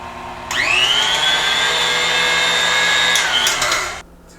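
A KitchenAid 4.5 quart tilt-head stand mixer after an oil leak repair switches on with a rising whine, runs at a steady loud hum for about three seconds, then winds down and stops.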